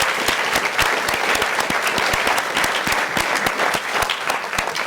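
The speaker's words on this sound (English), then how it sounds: "let's give us applause for these" Audience applause thanking the sponsors at a plenary conference session: dense, steady clapping from a sizeable crowd that fills the whole stretch at an even level, with sharp individual claps standing out near the front.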